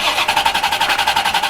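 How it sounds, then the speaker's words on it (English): A C4 Corvette engine fires up from cold at a shop, giving a loud, close, rhythmic pulsing idle with steady rapid beats and no talking. "Cold start. Let's see it."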